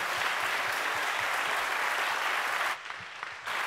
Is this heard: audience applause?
yes